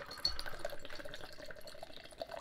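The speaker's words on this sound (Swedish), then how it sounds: "Vi häller upp." Omnipollo DIPA beer is poured vigorously from a can into a glass, making a steady rushing, fizzing splash throughout, up close and with no talk.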